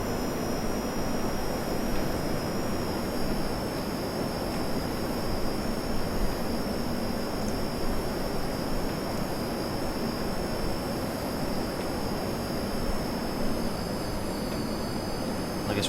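A Cold War jet taxies in the P3D flight simulator, its engine a steady, loud, unbroken roar with a thin high whine held above it.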